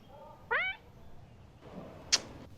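A person imitates a cat's meow with a short, rising-falling nasal call near the start, followed by quiet room background and a brief sharp sound later.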